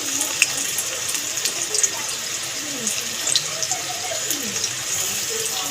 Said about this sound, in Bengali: দেখো বন্ধুরা লাল লাল করে এপিট ওপিট ভালো করে ভেজে নিচ্ছি পকোড়াগুলো